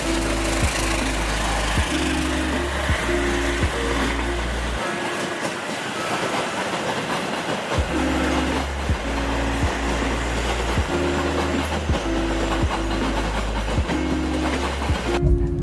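A train rolls past close to a roadside coffee spot, its wheels thumping in a steady rhythmic clickety-clack over a loud continuous rumble for the whole stretch, with no talk.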